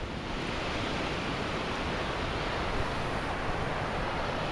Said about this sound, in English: here's the waterfall behind that tree there